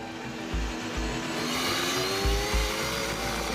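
A 1000 cc racing motorcycle engine at full throttle on a final lap, a loud, sustained high-pitched roar with rising revs and brief shifts, heard alone without talk.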